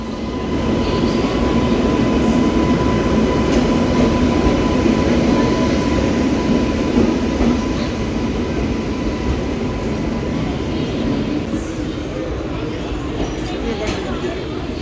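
The Okha–Rameswaram Express, a WAP-7 locomotive pulling coaches, arrives, rumbling steadily and loudly nearby, a continuous heavy roar of wheels and engine with a faint tonal hum, no clear pauses.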